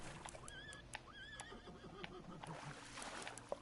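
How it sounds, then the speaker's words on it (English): Horse neighing and whinnying in the fishing video game Fishing Planet, several faint high whinnies over quiet water and ambient game sounds, with no talking. "I wish that horse would quit driving me crazy right now."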